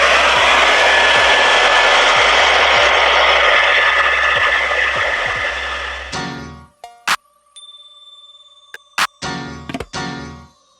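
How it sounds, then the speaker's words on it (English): Handheld blow dryer fitted with a diffuser, drying a curly blonde wave wig; a loud steady broadband whoosh runs for about six seconds then cuts off, followed by a few clicks and brief taps. "We're going to use my handy dandy blow dryer with my diffuser on."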